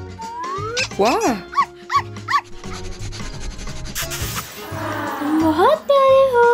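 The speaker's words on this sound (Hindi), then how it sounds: "हाँ, ये मेरा कुत्ता है।" A cartoon dog in a cardboard house with secret rooms yelps and whines in short, rising bursts over bright background music and lively voices, with a longer sliding cry near the end.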